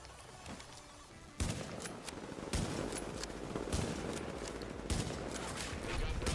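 Enemy gunfire crackles in The Division, a dense, distant fusillade of overlapping shots and bursts that continues throughout after a quieter opening, with faint voice in the background.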